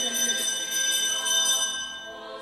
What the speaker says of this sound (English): the ringing of this small bell, which is here to summon each of the nuns